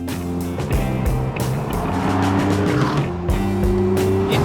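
Pagani Zonda supercar roaring past at speed, a loud harmonic engine note climbing through the gears with a tire squeal, passing close and staying strong throughout.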